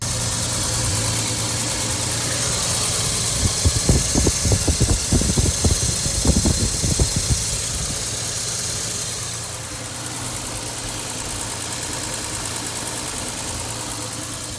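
A 1974 Triumph TR6's 2.5-liter inline-six engine with dual Stromberg carburetors idles steadily with a low, even rumble, joined midway by a few seconds of rhythmic knocking pulses before settling back to a smooth idle.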